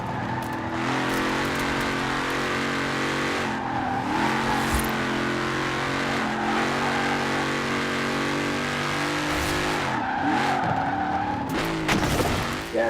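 An American muscle car engine in the video game Forza Horizon 4 revs and accelerates with a loud, steady roar, rising and falling in pitch, with brief tire squeals near the end.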